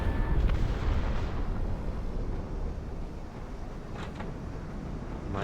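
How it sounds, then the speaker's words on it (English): Missile and rocket explosions in the aerial combat game Project Wingman, a continuous heavy rumble of blasts with a loud opening burst and sharper cracks near the end. "Just start lighting all the rockets off."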